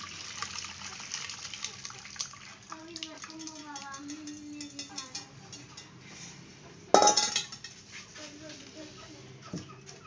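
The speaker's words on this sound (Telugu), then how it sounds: "ఇలా వాటర్ అంతా పిండేసుకోవాలి." Water trickles and drips as homemade paneer is wrung out in a white cloth, with a sudden louder splash and light clinks; a voice talks over parts of it.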